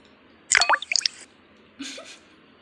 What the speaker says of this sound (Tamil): இப்போ நம்ம டம்ளரில் ஊற்றிக்கலாம்